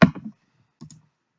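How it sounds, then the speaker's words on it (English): A computer mouse right-clicked on a folder while working in a software development environment: a single crisp click up close, followed a moment later by a second fainter click, in an otherwise quiet room. "So I'll select the folder and right click on it"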